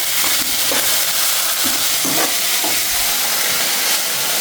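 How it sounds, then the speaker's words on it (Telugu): Paneer fries in a pan with a loud, dense, hissing sizzle that stays constant throughout, and soft stirring scrapes sit beneath it. "ఈ పన్నీర్ గోలించు"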